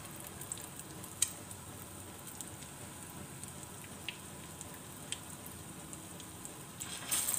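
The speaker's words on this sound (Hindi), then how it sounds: "इसी तरह हमने बाकी के शामी कबाब भी ऑयल में डाल लेने हैं" Shami kababs coated in egg fry in oil with a faint, steady sizzle and a few soft crackles and pops, heard alone without talk.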